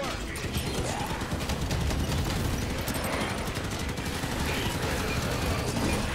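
Rapid automatic gunfire from a Ghost vehicle in Halo 5: Guardians rattles on without pause, dense and loud, with a voice faintly audible underneath.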